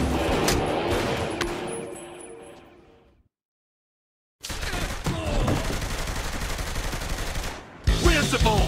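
Rapid bursts of automatic gunfire from a Saints Row III firefight, loud and close, break off into a few seconds of silence, then resume as dense sustained shooting with a sharp burst at the end.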